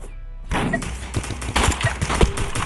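Pistol fire in the video game Animal Rivals: a dense run of sharp, punchy shots after a short quiet start, loud and close with irregular spacing.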